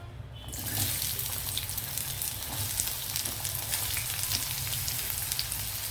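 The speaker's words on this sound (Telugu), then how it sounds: "ఆయిల్ హీట్ అయ్యాక ముందుగా మనం ఆనియన్ ఫ్రై చేద్దాం" Onions frying in hot oil in a pan for a home-style chicken curry, a steady loud hiss and crackle that starts abruptly and continues evenly with no talk over it.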